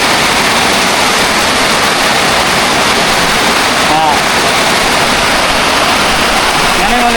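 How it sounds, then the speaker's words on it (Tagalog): Heavy rain pours on crops in a dense, continuous loud hiss, with a faint voice briefly audible beneath the downpour. "Ulan no?"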